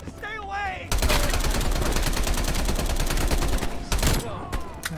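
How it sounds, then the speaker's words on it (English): Rapid gunfire in the Call of Duty: Black Ops Cold War campaign: a dense burst of automatic shots cracking in quick succession for about three seconds, loud and close, after a shouted voice and before another short volley. "They're shooting at us!"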